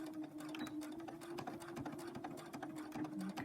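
A sewing machine stitches forward, then back stitches over a fabric face mask tie, giving a steady close mechanical whir with a rapid needle rhythm through the clip.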